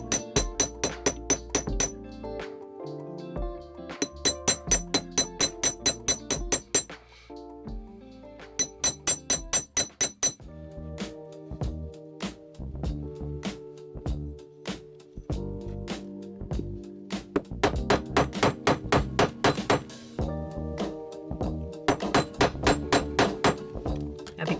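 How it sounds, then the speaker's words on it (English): Repeated metal hammer strikes shaping handmade copper wire ear hooks on a bench block, coming in fast rhythmic bursts of sharp ringing taps separated by short pauses and lighter, irregular tapping. "this time I am coming in with my regular hammer first"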